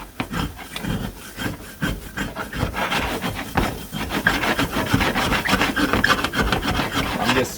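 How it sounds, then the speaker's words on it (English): A spoon scrapes the bottom of a pan of cooking potatoes in a steady run of rough, rasping strokes, close and fairly loud, with no talking. "I'm just scraping the bottom of the pan"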